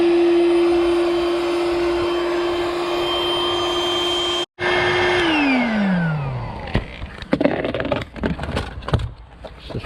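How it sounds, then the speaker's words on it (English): An electric pump runs steadily through a small adapter in a van, a loud, even motor hum that cuts out briefly and then restarts, its pitch dropping as it winds down, followed by clattering handling noises. "plug the adapter in, like so, pump on the end"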